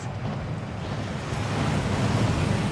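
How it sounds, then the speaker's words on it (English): The Gringotts vault waterfall in the video game Hogwarts Legacy roars as a steady, dense rush of falling water that grows slightly louder toward the end, with no voices over it. "That waterfall washes away all enchantments."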